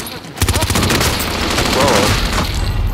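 Rapid video game gunfire erupts after a brief quiet start, a sustained loud fusillade of sharp repeated shots and automatic bursts continuing to the end, with a player's voice talking over it.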